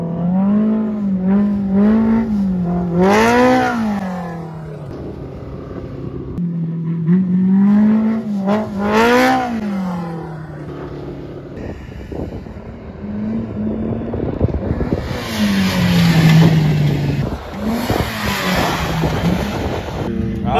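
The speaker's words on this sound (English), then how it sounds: "Dallin and Hymus is gonna attempt a sideways jump right on Oldsmobile Hill." Off-road dune vehicles at Glamis on Oldsmobile Hill rev hard with rising and falling engine pitch, repeated surges up and down, then a rough, gravelly roar as one launches into a sideways jump.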